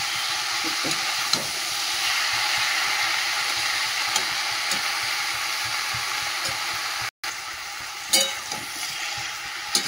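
Mustard greens fry in hot oil in a pan with a steady, close sizzle, while a spoon stirs them and adds scattered scraping clicks. No one speaks.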